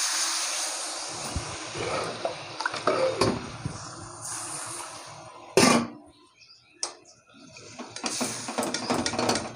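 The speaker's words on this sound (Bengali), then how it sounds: "এখন আমি জল দিয়ে দেবো।" Water poured into a pot of Bengali chicken and potato curry, with clattering of pots and utensils, a few sharp metal knocks and splashy bursts amid bubbling liquid, close to the microphone.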